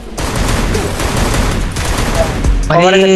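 A sniper rifle and other guns go off in a mobile shooter game as dense, rapid bursts, close and loud, with a voice talking over them and game effects at the end.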